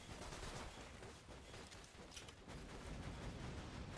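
Automated turrets firing in the shooter game Borderlands 2, heard as a dense, continuous wash of rapid gunfire and crackling noise at fairly low volume, with no pauses.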